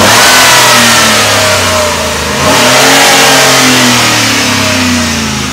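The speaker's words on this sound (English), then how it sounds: "Why don't you hop in and rev it up a little bit, let him hear the motor" A 2012 Ford Raptor SVT truck engine revs loudly and close up, swelling, easing briefly and climbing again, with no voices.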